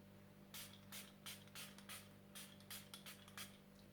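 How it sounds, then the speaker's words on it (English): Catrice Prime and Fine Dewy Glow makeup fixing spray pumped in about a dozen quick, soft hissing spritzes in an uneven rhythm, faint against a low steady hum. "For fixing my makeup, I'm gonna use Catrice Prime and Fine Dewy Glow Fixing Spray."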